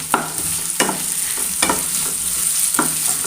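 Sliced onion frying in a pan, made while cooking a potato and egg dish, sizzles steadily and loudly with several sharp scraping stirs at regular intervals and no talking.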